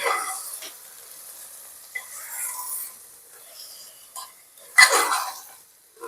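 Mutton with onions and yogurt being stirred in a pot, with faint sizzling and intermittent scrapes and clinks of a spoon against metal, one louder scrape near the end, and soft speech between.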